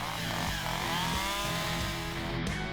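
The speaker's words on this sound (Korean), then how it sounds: "이때 나뭇가지를 손질하기 위해 전기톱은 필수." An electric chainsaw used by an arborist to prune tree branches high up in a tree, droning steadily and loudly at close range with a slight rising pitch and no voices.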